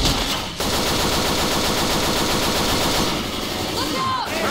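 Dense, continuous gunfire from Left 4 Dead 2 rattles nearly without pause, loud and close, with a brief dip near the start and a sharper burst toward the end.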